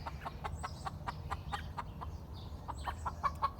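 Americana roosters and other chickens cluck and chatter in short repeated calls, fairly close but soft, with a low rumble beneath.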